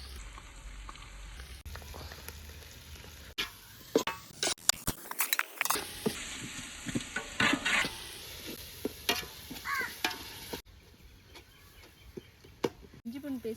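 Ginger garlic paste frying with softened onion and tomato in a pan for chicken biryani, crackling and sizzling up close while a spoon stirs and scrapes in bursts, with a person talking over it.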